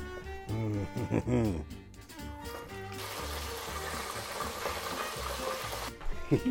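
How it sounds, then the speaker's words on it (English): Fried steak sizzles in a hot pan, a steady close hiss of spitting fat that swells after a few seconds of stirring and clatter, with a voice briefly heard over it. "What else can I fry? Ooh, check it out. Steak, fried steak."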